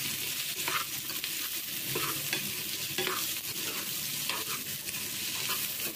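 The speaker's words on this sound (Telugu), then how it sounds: "దీన్ని అందులో మిక్స్ అయ్యేటట్టు బాగా కలుపుకోవాలి" Half a kilo of ivy gourd (dondakaya) being mixed into curry in a pan: continuous close sizzling with repeated scraping strokes of a spoon stirring, no voices.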